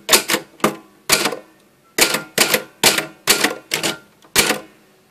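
Keys struck on a manual typewriter, sharp close mechanical clacks in uneven bursts of two or three with short pauses between, loud and alone.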